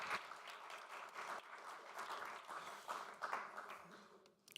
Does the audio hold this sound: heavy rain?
no